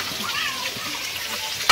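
Pieces of catla fish fry in a pan with a steady soft sizzle and crackle, fairly quiet, ending with a brief sharp click.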